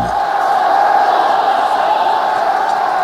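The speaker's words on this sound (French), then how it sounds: "sous les acclamations de la foule" A large crowd cheering and shouting as a sound effect, a loud, dense, continuous roar of many voices, steady throughout with no single voice standing out.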